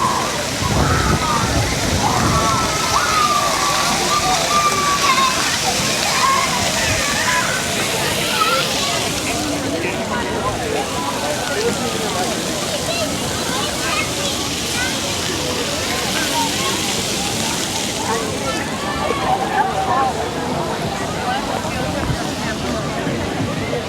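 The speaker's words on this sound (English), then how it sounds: "Got the water coming down over here." Water cascading down at Asbury Park, New Jersey, on a busy summer afternoon, a loud, steady splashing rush that runs throughout, with people talking nearby and crowd bustle mixed in.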